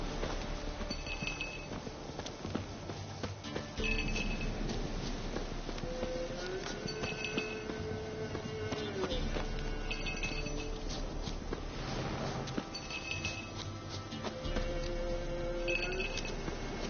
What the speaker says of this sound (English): Do I really have to keep ringing this bell for you to follow?